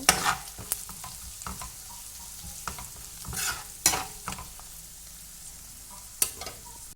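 Onion, tomato, green chili and ginger sautéing in a pan, a close steady sizzle broken by repeated sharp scraping and clanking strokes of a spoon against the pan.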